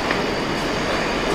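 A train rolls past a railway crossing gate, a steady close rumble of wheels on rails filling the whole moment with no voices over it.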